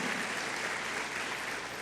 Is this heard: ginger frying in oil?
no